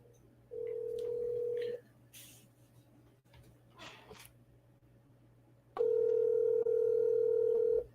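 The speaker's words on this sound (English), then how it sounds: "We're going to try to call Chris Beskar live on air" A steady telephone dial tone comes on twice, first briefly and then again loud and continuous, as a call is placed live on air; quiet rustling and faint sounds fill the gap between the tones.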